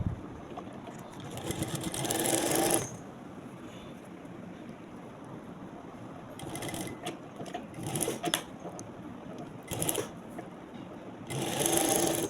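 A sewing machine stitches strips onto a cut-work sleeve in several runs of rapid whirring stitches, each a second or two long, separated by brief pauses and lighter taps, fairly close with no talk.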